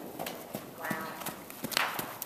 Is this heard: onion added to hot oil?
no